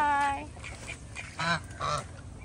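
A duck at a farm lets out several close, nasal quacks in quick succession, with a bird-like call near the start.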